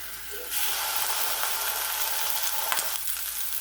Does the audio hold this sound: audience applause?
no